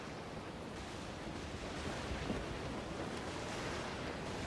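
Broadband ocean surf and wind rush steadily around a sailing ship at sea in Assassin's Creed Black Flag, a continuous loud wash with no distinct breaks and no talk.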